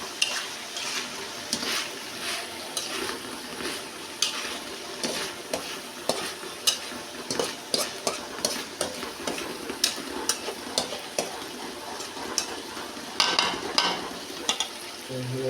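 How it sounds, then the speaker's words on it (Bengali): Tomatoes fry in a pan with a steady sizzle, broken by frequent scraping, tapping stirs of a utensil against the pan, close and fairly quiet, with no talk. "এই হলো টমেটো ভাজি করতেছি আমি।"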